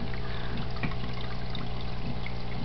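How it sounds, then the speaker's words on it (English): Water draining from a siphoning planter into a desktop aquaponics tank, a steady close trickle and gurgle with small bubbling splashes throughout, continuous and fairly soft with no talking. "Well, we've got all this draining into this tank"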